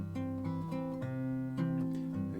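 An acoustic guitar finger-picks the traditional folk tune "Hang Me, Oh Hang Me" in a steady alternating bass pattern, warm plucked chords ringing close by with no singing or talking.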